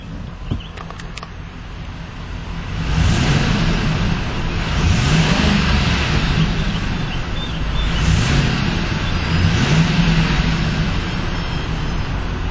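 A 2011 Ford E-150 cargo van engine idles, then revs up several times in swelling surges, close and loud with no talking.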